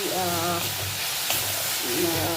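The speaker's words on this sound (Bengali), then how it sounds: "মোটামুটি একটু করে মশলাটা কষিয়ে নিচ্ছি" Spice paste sizzling in a pan ahead of bottle gourd and prawns, a dense continuous frying hiss with a faint voice murmuring underneath.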